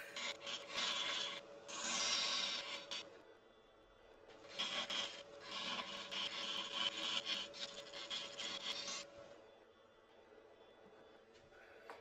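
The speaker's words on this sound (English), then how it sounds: "I've just got to go in now with a small spindle gouge and dress the profile underneath the ring" A small spindle gouge cuts into a spinning wooden bud vase on a lathe, giving bursts of hissing, scraping shavings separated by short pauses, with the lathe's quiet hum underneath. It sounds close and moderately faint, with no speech.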